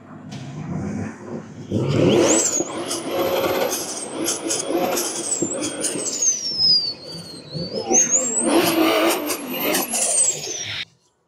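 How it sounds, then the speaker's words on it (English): A freshly built RB25 engine with a big single turbo revving at a car show: rising and falling engine roars with rapid high whistling sweeps, loud and close, over crowd noise and talk, ending abruptly. "big single turbo, freshly built RB25 motor"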